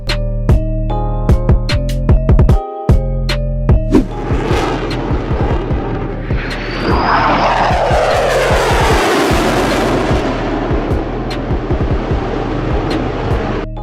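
A modern advanced fighter jet flies by with a loud, rising and sweeping roar that builds to a broad rushing whoosh and then trails off, with sharp rhythmic clicks and a steady low drone running throughout.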